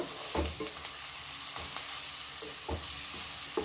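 Drumstick leaves frying in a pan for an egg fry, a steady broadband sizzle with a few soft stirring scrapes and knocks spread through it, close and continuous, with no talking.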